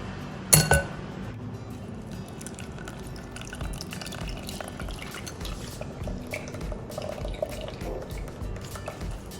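Buttermilk thinned with water and made from ash gourd is poured through a coarse strainer into a glass: an early sharp clink, then steady dripping and trickling liquid with faint clatter throughout.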